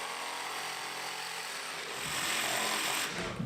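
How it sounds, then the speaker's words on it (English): A jigsaw cuts pieces away from a wooden workpiece for an assembly table frame, a steady buzzing drone that grows louder and rougher toward the end, heard alone without talk. "I used the jigsaw to cut those pieces away."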